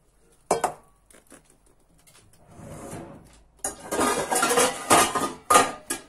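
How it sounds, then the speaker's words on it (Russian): A cooking pot lifted out and handled in a home kitchen, giving a few sharp metallic clanks and knocks, then a louder run of clattering and scraping as cookware is shifted about, close and with no talk. "Возьмем побольше кастрюльку."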